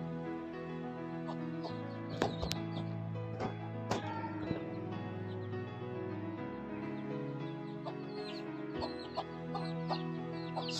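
A black hen and her chicks cluck outdoors after rain, with soft, scattered clucks and a few sharper peeps close by over a faint background and no talking.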